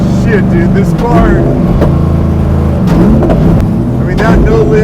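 A 1,100 hp supercharged Buick with a sequential gearbox accelerating hard at full throttle, engine droning loud and close with quick upshifts taken without lifting, pitch dropping then climbing again, with excited voices over it.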